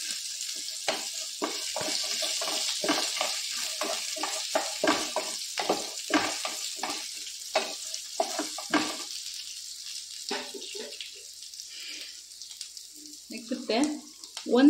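Chicken green masala frying in a home kitchen pan, with steady sizzling punctuated by frequent stirring scrapes and clatter, plus a splash of running water near the end.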